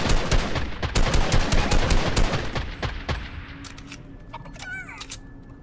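Rapid automatic gunfire from a video game bursts in quick, dense volleys for about three seconds, then fades out, leaving faint game ambience and a brief whistling tone.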